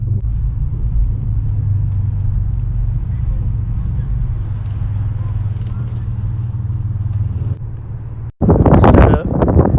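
A modified 460 hp Acura RSX engine rumbles in a deep, loud, steady low drone, with wind buffeting the microphone, before a sudden brief cut and a harsh, loud burst at the end.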